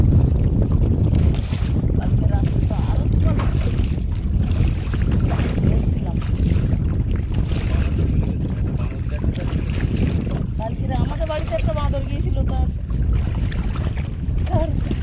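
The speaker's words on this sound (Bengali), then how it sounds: "গাড়াল নদীতে কিন্তু বিশাল তুফান হচ্ছে" Strong storm wind gusting over the Garal river near a small rowed fishing boat, a steady loud rumble buffeting the microphone throughout, with faint splashing and brief voices in the background.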